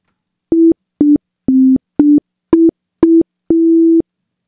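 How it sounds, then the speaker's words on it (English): Short synthesized tune from an iOS app running a libpd Pure Data patch: seven clean, beep-like electronic notes of near-constant pitch, each cut into one or two pulses with the last held longer, moderately loud with no voices. "Here, let me play a little tune."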